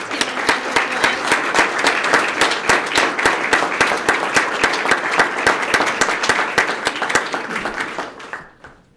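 A room at a Sarasota police swearing-in ceremony bursts into crisp, rhythmic applause for a newly sworn officer, many hands clapping steadily and loudly for about eight seconds before tapering away.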